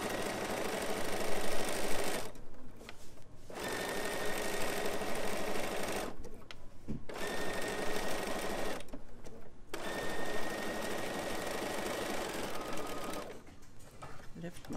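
Bernina sewing machine fitted with foot 3C stitching elastic, running in several bursts of rapid mechanical stitching separated by short pauses, close and steady.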